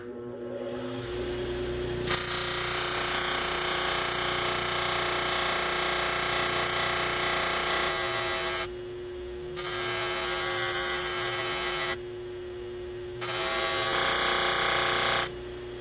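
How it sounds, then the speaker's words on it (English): A buffing wheel polishes out a rust spot on a rifle's metal, a loud steady whine and hiss that cuts off twice briefly and starts again, close by with no talk. "we're going to use our buffing wheels in this direction to remove this"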